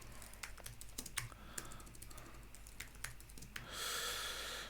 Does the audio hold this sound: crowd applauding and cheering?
no